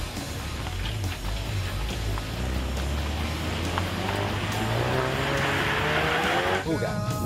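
A Ford Focus RS in drift mode revs hard at full throttle, a loud sustained engine roar climbing steadily in pitch with tyre noise underneath and a brief gear change near the end.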